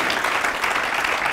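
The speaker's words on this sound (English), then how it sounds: "Let's give him a round of applause, please" Brief burst of audience applause at a business summit interview, a dense steady wash of clapping at moderate volume with no pauses.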